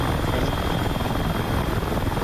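A Bell 47 helicopter coming in to land in the flight simulator DCS World, its rotor and engine a steady, dense, close roar that fills the whole moment without a break.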